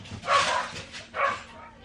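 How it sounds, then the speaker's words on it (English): A dog barks at a pigeon in a garden: two yappy bow-wow barks, moderately loud and a little distant, against a quiet indoor background. "The dog just wanted you to know."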